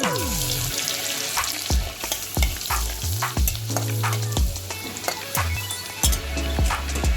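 Mustard seeds, cumin and garlic sizzle in hot oil in a pan, a loud close crackle broken by repeated sharp clinks and scrapes of a spoon stirring, with no talking.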